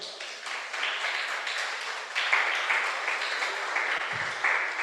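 Church congregation applauding the Lord after a prayer, a steady crackle of many hands clapping at moderate level for about five seconds with no talk over it.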